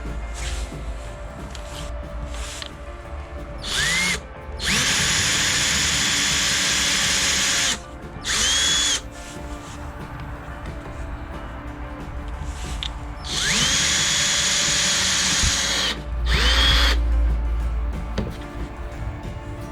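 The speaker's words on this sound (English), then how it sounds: "I'm going to drill from this side" A power drill whirs in loud bursts during a Vespa P200E scooter restoration, spinning up and winding down between runs, with brief quieter gaps and a low background hum.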